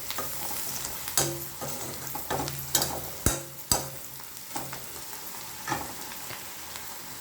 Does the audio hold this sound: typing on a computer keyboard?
no